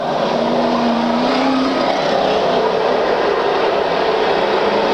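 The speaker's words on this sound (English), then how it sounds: "Terry Allen fighting an L-handling car in the 15, the 94 automobile in the infield area." Stock cars roar around a track during a 1995 race, with a dense, continuous engine drone from several cars at once, loud and steady without pause, plus a faint rising whine as one passes.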